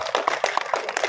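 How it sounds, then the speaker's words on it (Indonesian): Clapping from an audience at an Indonesian film press conference, a short patter of scattered hand claps, fairly close and modest in size. "Tepuk tangan semuanya."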